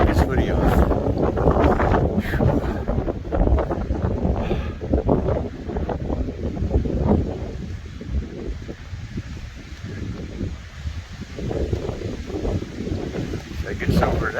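Strong wind blows across a mountain section of the Appalachian Trail on a cold day, buffeting the microphone in a steady, rough roar while a hiker talks over it.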